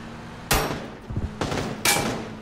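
Gunfire in PUBG on Miramar, aimed at the player, comes as three loud, sharp cracks about half a second to a second apart. Each shot leaves a short ringing tail, and a steady low hum runs underneath.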